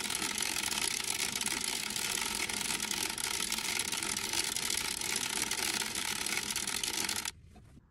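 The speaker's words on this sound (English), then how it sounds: "So let's just keep cranking for a little bit." A circular sock knitting machine being cranked: a dense, continuous mechanical clatter and whirring, close and steady for about seven seconds before stopping abruptly.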